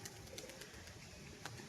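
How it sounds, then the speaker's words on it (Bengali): Beldanga line pigeons, male and female, coo very faintly at close range amid quiet background noise. "দেখুন এগুলো কিন্তু সবই বেলডাঙ্গা লাইনেরই পায়রা।"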